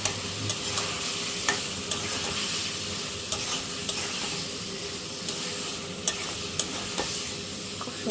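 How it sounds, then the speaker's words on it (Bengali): Green chilies and prawns going into frying masala for a coconut prawn curry, giving a steady sizzle with repeated sharp scrapes and clicks of stirring throughout, close and moderately loud. "কাঁচামরিচ আর চিংড়ি মাছটা আমি এখন দিয়ে দিচ্ছি।"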